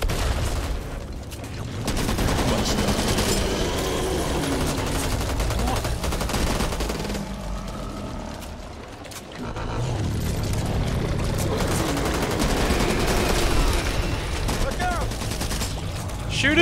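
Sustained rapid gunfire from players shooting zombies in Back 4 Blood, loud and nearly unbroken bursts with a brief lull midway, and voices talking over the fighting.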